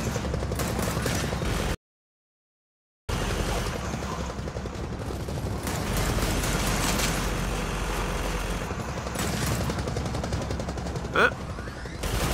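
Pistol fire in Gears of War 4 campaign play, a busy run of gunshots and bursts over a rumbling battle bed, loud and sustained, with a brief silent gap near the start.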